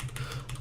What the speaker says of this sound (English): This is about as fast as I type